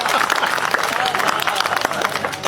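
Dense audience applause at a Hindi comedy poetry show, loud and continuous for the whole stretch, with a voice faintly beneath the clapping.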